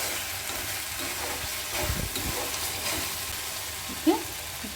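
Tomatoes fry in a pan for chicken curry, a steady close sizzle and hiss with soft stirring scrapes and a brief clink near the end.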